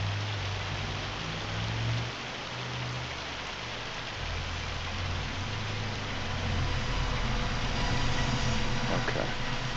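Steady rain pattering down on a surface, with a low idling engine rumbling beneath it.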